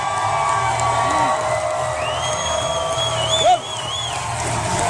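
A wrestling crowd in an arena cheers and whoops steadily, with shrill whistles and shouts rising over the dense roar and a short louder swell near the end.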